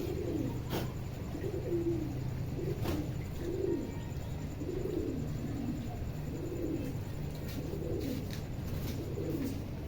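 Pigeons in a loft with feed grain give a clear run of low, rolling coos, repeating every second or so for ten seconds, fairly close, with a steady hum behind and no speech.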